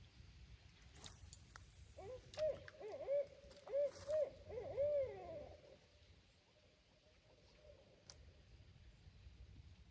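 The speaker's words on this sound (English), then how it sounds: "Got a couple owls hooting at each other." Two owls hoot at each other in a quick series of rising, wavering calls, fairly faint and a little distant at a Kentucky deer camp, over low background rumble; a second call answers.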